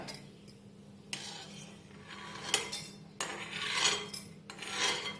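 Roasted fenugreek seeds are ground for a Kerala moru curry, heard as intermittent gritty scraping and clinking bursts of a grinder or mortar, moderately faint and without talk.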